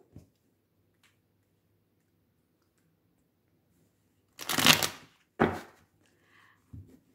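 Rider-Waite tarot cards shuffled for a reading, heard as two short bursts of papery riffling close by, followed by a faint tap, otherwise quiet.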